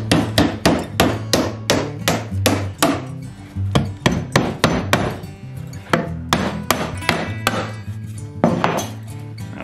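A hammer drives roofing nails through a Wyoming license plate forming a birdhouse roof: a rapid run of sharp, close metallic strikes in uneven bursts, with brief pauses between nails.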